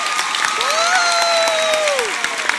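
A school assembly audience applauds a second-grade student, loud, dense clapping across the room, with a sustained whistle-like tone or cheer rising and falling through the middle.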